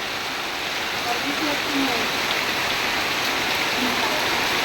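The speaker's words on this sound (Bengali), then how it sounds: "নামাইতে নামাইতে এই বৃষ্টি শুরু হয়ে গেলো" Steady rain falls through the whole stretch as a dense, even hiss of drops on surfaces. It stays close and fairly loud, with a faint background voice now and then.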